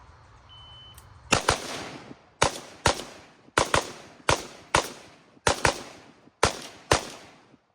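A string of nine sharp AR-15 rifle shots at a live-fire training session, loud and close, fired in uneven bursts of single and paired shots with brief gaps and decaying echoes between them.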